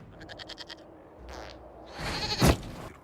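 A goat in the video game Dragon Age Inquisition bleats in a quick wavering burst, followed by a short whoosh and a louder bleat, heard alone and close.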